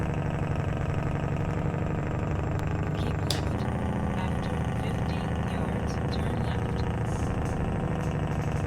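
Truck engine brake in a trucking simulator game, a continuous loud throbbing rumble of a heavy diesel engine holding steady for several seconds with no talking over it.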